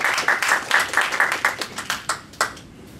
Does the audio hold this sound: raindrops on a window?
no